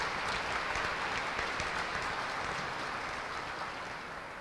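Steady applause from a crowd gathered in a state capitol rotunda for mental health advocates on a mental health day, a dense continuous wash of clapping that fades slightly toward the end, with no talking over it.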